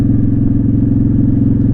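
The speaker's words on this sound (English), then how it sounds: "you kind of learn those sounds that the motorcycle makes" A Honda Shadow beginner motorcycle engine cruising at steady speed, a loud, close, even throbbing rumble that holds constant throughout.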